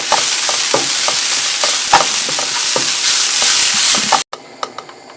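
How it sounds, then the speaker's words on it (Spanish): A tamale mixture seasoned with freshly ground black pepper is stirred in a pot over a steady sizzling hiss, with soft scraping strokes every half second or so, then a sudden quieter stretch of occasional taps. "vamos a revolver"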